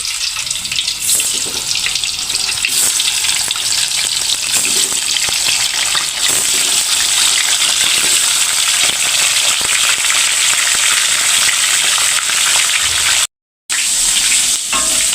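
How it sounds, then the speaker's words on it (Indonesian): Loud, steady crackling and hissing of tofu frying in hot oil, continuous and close, with a brief dropout near the end. "sekarang kita goreng tahu"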